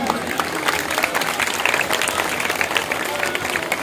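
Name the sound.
audience applause at a welfare organization event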